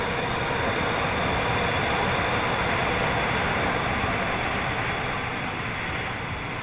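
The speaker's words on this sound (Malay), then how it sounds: "LRT lalu." An LRT train passes by as a dense, continuous rumbling roar that stays loud and steady throughout, with no voices.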